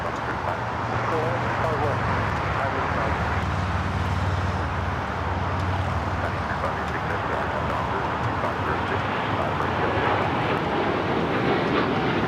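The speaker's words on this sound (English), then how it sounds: "This is United Airlines Flight 39 taking off to Tokyo, Haneda on the 787-10 Dreamliner." United Airlines Boeing 787-10 Dreamliner taking off from Los Angeles (LAX), a steady broad jet roar holding level throughout with a low rumble, a voice talking over it.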